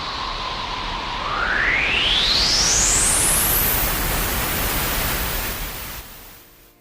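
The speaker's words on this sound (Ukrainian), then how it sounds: "це звук потужного вітру та заметілі" Roaring wind and blizzard noise with a whistling howl sweeping sharply upward in pitch, swelling loud before fading away at the end.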